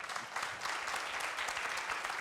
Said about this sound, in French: Merci de l'applaudir